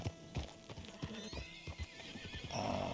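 Horses in the Red Dead Redemption 2 video game clop along in an uneven rhythm of hoofbeats, close and clear, and one whinnies near the end.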